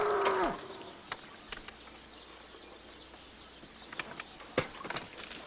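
A bull in the Icarus video game lets out one low moo, fading with a downward slide. Faint bird chirps and scattered clicks and thumps follow in a quiet outdoor setting.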